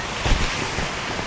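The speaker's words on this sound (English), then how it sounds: "So a lot of rocks and water flowing underneath these rocks." Water flowing beneath rocks near a waterfall, a continuous rushing wash buffeted by wind noise on the microphone, close and fairly loud, with no talking.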